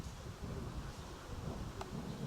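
Wind blows outdoors in a steady low rumble against the microphone, faint and continuous, with no talk.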